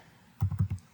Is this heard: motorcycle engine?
no